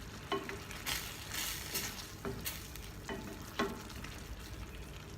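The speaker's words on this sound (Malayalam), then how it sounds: "നമ്മുടെ ഗ്രേവി നന്നായിട്ട് തിളയ്ക്കാൻ തുടങ്ങിയിട്ടുണ്ട്" Mushroom masala gravy for chapati simmers and bubbles in a pan, a close, steady sizzle broken by a few sharper pops and stirring scrapes, with no voices.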